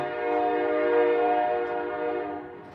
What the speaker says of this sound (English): that's the train I'm not telling you guys about.